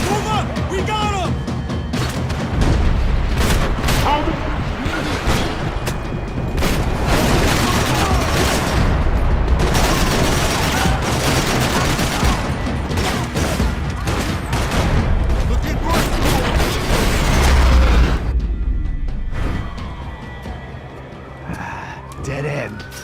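Gunfire rattles through a shootout in the Max Payne 3 video game, dense rapid bursts of shots crackling for about eighteen seconds amid shouting voices and sirens before fading out.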